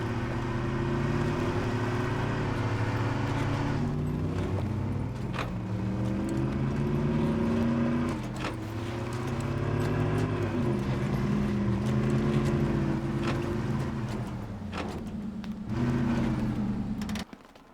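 Engine of a 2005 Lincoln Mark LT in the SnowRunner video game, droning steadily in a high gear with wheels spinning, a sustained loud hum with slight surges and no talk.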